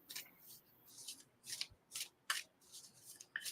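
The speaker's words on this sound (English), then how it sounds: "All right, I'm going to shuffle." A deck of oracle cards is shuffled by hand close up, with a quick series of crisp riffling bursts and soft slides in a quiet room.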